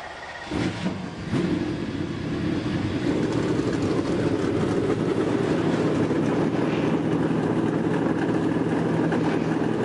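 Stock race cars at the Monster Energy Open fire up their engines together, a dense sustained roar of many motors that rises quickly and holds steady.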